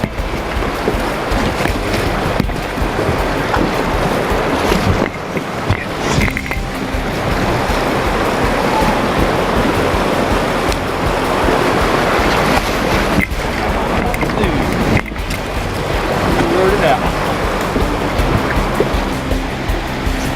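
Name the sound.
river rapids on the Haw River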